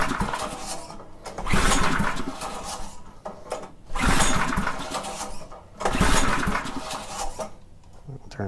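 A front-tine rototiller's replacement engine is pulled over with the choke on, giving three surging bursts of loud mechanical chugging that cut out between attempts, close by.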